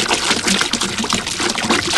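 Milk pours from a quart container into a mixing bowl for army-kitchen pancakes, a steady, close liquid splash and trickle that runs without a break for about two seconds.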